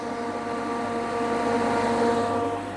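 A steady mechanical hum with strong tonal whine from an ozone generator running continuously at constant level inside an Audi A8, no voices.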